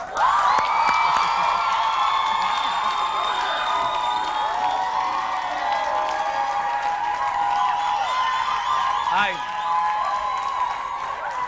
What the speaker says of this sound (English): the applause goes and goes and goes